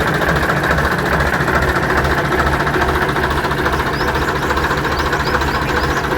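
A tractor engine idles close by, a loud, steady low rumble with a regular knocking pulse and mechanical vibration throughout, with no voices.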